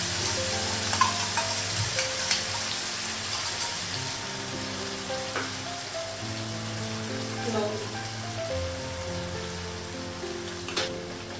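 Onion and potato fry with ginger, garlic and turmeric paste for an eggplant dish, producing a steady medium sizzle with occasional spoon scrapes and clicks, and background hum throughout.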